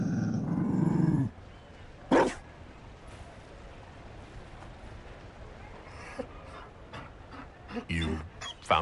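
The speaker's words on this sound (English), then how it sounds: "You found a dog?" A Mabari war dog from Dragon Age: Inquisition lets out a short, deep, close growl at the start, followed by quiet ambience with scattered faint thumps and voices.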